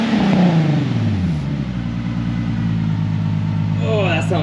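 A car with a VQ engine and a STILLEN exhaust revs up close by, then its rasping pitch falls and settles into a steady, throaty idle, with a brief blip rising near the end.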